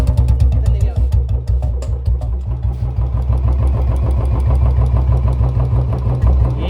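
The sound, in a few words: Royal Enfield Bullet 350 motorcycle engine idling with tick sound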